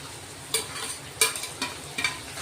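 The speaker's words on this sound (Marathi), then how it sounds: "टोमॅटो आता परतून घ्यायचे।" Tomatoes sizzle softly in a pan with onions while a spoon scrapes and stirs in a few distinct strokes, each stir a brief bright clatter over the low frying hiss.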